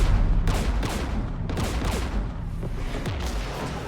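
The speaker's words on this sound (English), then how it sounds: "We're taking fire." Gunfire during a Mass Effect 3 battle near a Geth jamming tower, a rapid series of sharp shots and impacts at regular short intervals, moderately loud over a constant rumbling background.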